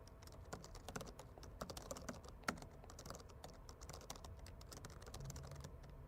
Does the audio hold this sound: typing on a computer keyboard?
yes